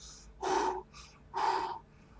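A human voice imitates a character's heavy breathing during a tabletop role-playing game: two loud, rasping breaths, each about half a second long, separated by quieter intakes, close to the microphone.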